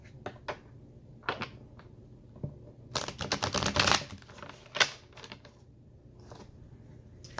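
Quick papery flutters and riffling clicks of tarot cards being shuffled come in short bursts, with a dense shuffle in the middle, close and fairly quiet.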